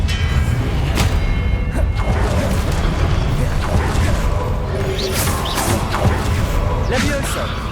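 Spells cast in the Hogwarts Legacy video game during combat, with a dense, continuous wash of magical whooshes, heavy thumps and booming impacts that stay loud throughout.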